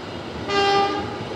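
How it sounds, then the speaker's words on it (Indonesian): A Manahan passenger train from Gambir to Solo Balapan sounds a loud, sustained horn blast of about half a second at Bekasi station, over a steady background hum. "Kereta api Manahan dari Gambir tujuan akhir Solo Balapan nyusul kita di stasiun Bekasi"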